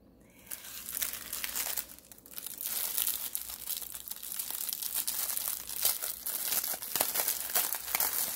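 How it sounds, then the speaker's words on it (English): Packaging being handled and opened close up, loud continuous crinkling and crackling of plastic wrap in bursts, with no talking. "let me get through all this crinkling"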